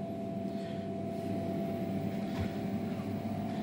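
An Emco Compact 5 CNC lathe set to 1000 RPM in CNC mode runs with a steady mechanical hum and a constant whine, loud and even throughout with no speech.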